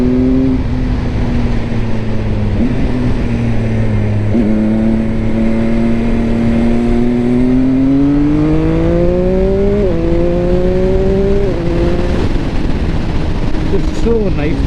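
A Triumph Speed Triple 1050 RS three-cylinder engine drones on the road, pitch climbing through each gear and dropping sharply at early upshifts, loud and close under continuous wind rush.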